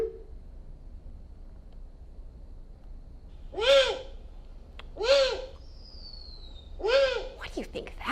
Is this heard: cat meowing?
no